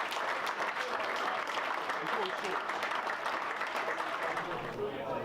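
Warm applause from a football crowd at a Dorking Wanderers match as an injured 18-year-old striker is stretchered off, a steady dense wash of clapping that carries through at moderate volume without a break.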